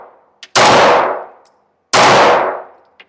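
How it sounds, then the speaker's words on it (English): Two loud, sharp pistol shots from a Ruger Magpul firearm fired one-handed offhand at an outdoor range, each ringing out and decaying over about a second, separated by a short pause, with faint metallic clinks. "I'm going to shoot it with my offhand too."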